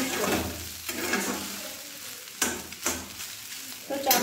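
Chow mein fries in a pan with a steady close sizzle, broken by several sharp scraping stirs of the noodles.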